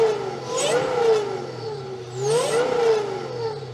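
A Saleen 570X engine revs twice, each time climbing and falling back smoothly, loud and close, with a steady idle between the revs and no voices.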